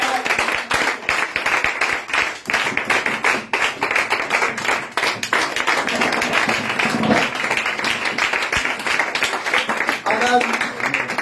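A congregation claps along during a Friday evening church worship service, steady rhythmic hand claps filling the space continuously, loud and dense, with voices singing or speaking over them throughout.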